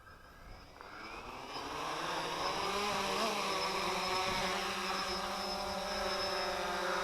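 An XK Detect X380 drone lifting off on automatic takeoff, its motors spinning up from quiet into a steady, loud whirring buzz that holds near and constant.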